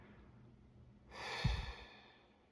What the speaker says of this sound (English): Exhaling slowly and deeply out.